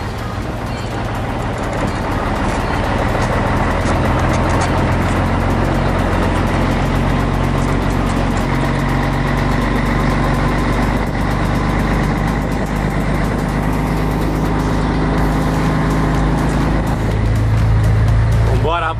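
Scania 143 truck pulling out at night with hazardous cargo: a steady, loud engine drone inside the cab throughout, with someone talking over it.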